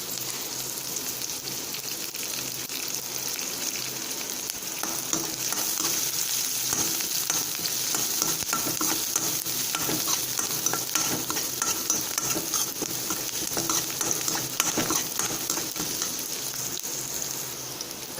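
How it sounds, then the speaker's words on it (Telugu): Cauliflower pieces for gobi 65 fry in hot oil with a steady, dense crackling sizzle that holds at an even level throughout, with no talking. "ఇవి బాగా ఫ్రై అవ్వాలి. ఇప్పుడు ఇవి మనకి ఫ్రై అవుతున్నాయి కదా"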